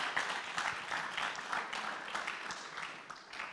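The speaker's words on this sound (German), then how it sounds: "Das ist nochmal ein Applaus wert" Audience at a public panel event applauding a guest speaker, a continuous wash of many hands clapping at low level, heard from a distance and tapering slightly at the end.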